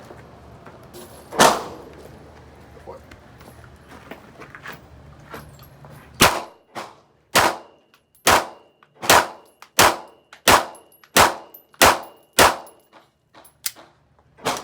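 An Archon Type B pistol fires a series of sharp, snappy reports, one early shot then about a dozen evenly spaced cracks in quick succession, loud and close, each with a short decay.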